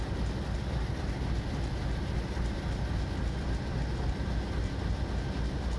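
A train in a video game drags along with its brakes almost fully applied, giving a continuous low rumble and grinding hum at moderate level, unbroken and without talk.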